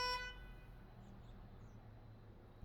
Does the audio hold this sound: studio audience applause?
no